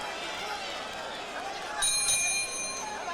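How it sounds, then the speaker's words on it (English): A boxing ring bell rings to end round seven of a professional junior lightweight bout, a bright metallic strike with lingering overtones heard under a noisy arena crowd and commentary. "As we head for the bell, round number 7."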